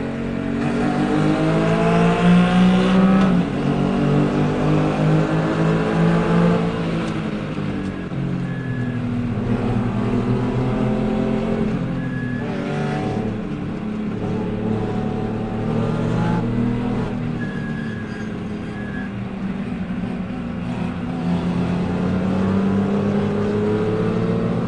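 Engine of a Porsche GT3 racing in a production-based GT championship, loud sustained revving that rises and falls through gear changes, with other race cars roaring close by; no talking.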